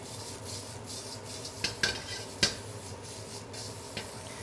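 Steady sizzling hiss of vegetables and garlic stir-frying in a hot wok, with a few sharp metallic scrapes and clinks of a utensil stirring.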